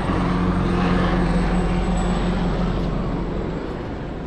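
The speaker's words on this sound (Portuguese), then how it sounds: "Esse é um helicóptero." A helicopter's steady engine and rotor drone fills the air overhead, loud and continuous, holding a constant low hum for several seconds.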